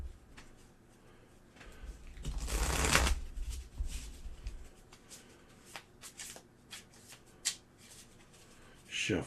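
A stack of playing cards being shuffled by hand, a quick riffling burst followed by softer shuffles and taps, quiet and close.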